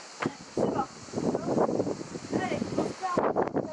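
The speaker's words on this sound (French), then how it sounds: "Il y a vraiment beaucoup de vent" Strong wind by the sea in Hyères buffets the microphone with a steady broadband roar, while someone talks over it almost continuously.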